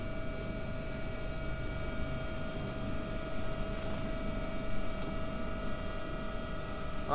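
AW-139 helicopter in X-Plane 11, flying a London air ambulance mission: a steady, even whine of rotor and turbine engine with constant tonal hums, unchanging and moderately loud for several seconds, with no voices.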